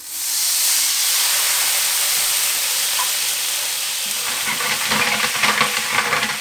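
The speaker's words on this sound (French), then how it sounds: "Je vais mettre un demi-verre, soit 100 ml d'eau dans ma poêle." About 100 ml of water hits a hot frying pan that has just cooked an entrecôte steak, releasing a loud, sustained hiss of steam that softens slightly, then turns into bubbling crackle with stirring toward the end.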